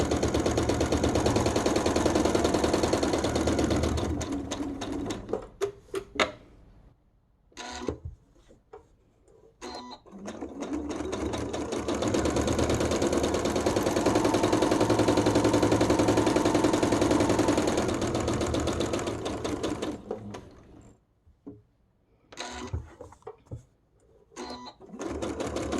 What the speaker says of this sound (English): And now I'm just going to top stitch.